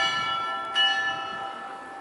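Bell tower chimes at St. Michael's Golden-Domed Monastery in Ukraine playing the national anthem, ringing tones sustained and fairly distant, with one brighter struck note midway, heard alone without voices.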